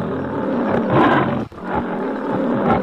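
A tiger and a lion roar loudly in two long, rumbling roars separated by a brief break, with no talking.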